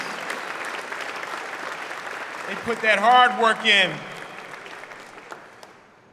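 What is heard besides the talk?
audience applause at ribbon cutting ceremony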